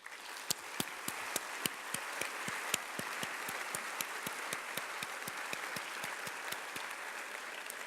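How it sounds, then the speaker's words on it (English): Audience at a high school graduation ceremony applauding, a steady wash of many hands clapping with a few sharper individual claps standing out, sustained throughout with no talking. "Audience, please join me in applauding their efforts."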